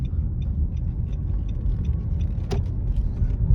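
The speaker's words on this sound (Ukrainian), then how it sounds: "і заодно рівень шуму на цих ямках зараз теж можете відчути." Car riding on Hankook Ventus Prime 4 tyres over potholes, a constant low rumbling road and cabin noise with a single sharp thud-like knock midway, heard from inside the car.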